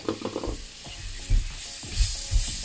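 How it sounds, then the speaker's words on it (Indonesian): Bay leaf, lime leaf, galangal, shallot and lemongrass sautéing in a pan, with a steady sizzle, soft stirring scrapes and a few thumping knocks of the utensil, close and moderately quiet. "Kita tumis semuanya hingga benar-benar harum."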